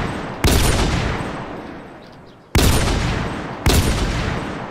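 Gunfire in the MTA DayZ game comes as three loud, abrupt blasts, each followed by a long, slowly fading roar or echo, close and alone without talk.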